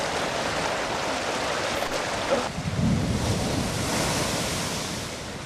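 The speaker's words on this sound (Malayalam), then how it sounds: "പൊക്കാഞ്ചേരി, വാടാനപ്പള്ളി, ഏങ്ങണ്ടിയൂർ മേഖലകളിൽ കടൽക്ഷോഭം അതിശക്തമായി" Rough, stormy sea battering the coast at Pokkancheri, Vadanappally and Engandiyur in Kerala, where a seawall road has broken: a continuous heavy roar of surf with wind buffeting, surging louder midway before easing slightly.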